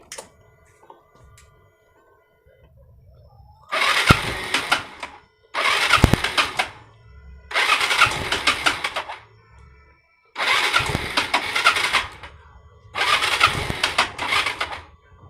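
A Yamaha Mio M3 scooter with blue core technology, struggling to start after stalling with a MIL code, gives five separate cranking bursts of the starter and engine, each a few seconds long, loud and close with short pauses between.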